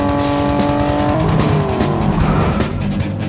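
A cartoon car speeds up during a chase, its engine revving loudly and continuously with a rising pitch and a hint of tire squeal, alone without talk.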